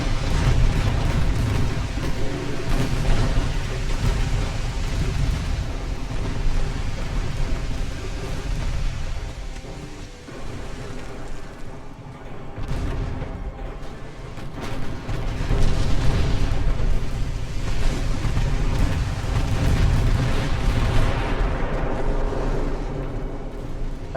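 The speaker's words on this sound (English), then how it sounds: "Fire the main guns on it." Warship main guns in Ultimate Admiral: Dreadnoughts, an 1890s-era naval battle: a continuous heavy rumble of cannon fire and booms with a roaring, rain-like wash that dips briefly midway before surging again.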